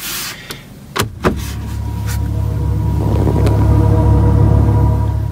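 A low steady electric car motor hum that swells gradually while driving, with a few clicks and thumps at the start, heard close inside the vehicle.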